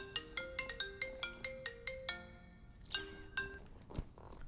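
A melodic phone ringtone plays a quick repeating pattern of bright electronic notes, moderately loud and alone.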